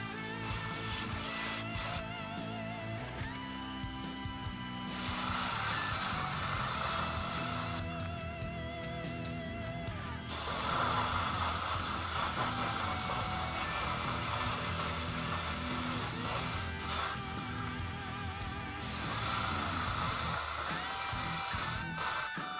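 Airbrush spraying paint onto a hobby miniature, several short bursts of bright hissing spray separated by pauses, close and alone with no talk.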